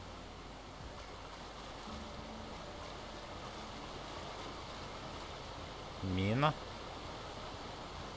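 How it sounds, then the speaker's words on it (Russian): Steady, even rush of waterfall ambience in the video game The Outer Worlds, a broad continuous roar running throughout, briefly interrupted by one short spoken word near the end. "Водопад."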